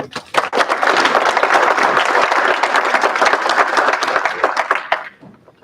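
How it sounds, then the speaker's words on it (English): A university awards ceremony audience applauds an honoree, dense even clapping that swells quickly, holds strong for several seconds, then thins and fades out near the end. "round of applause for her"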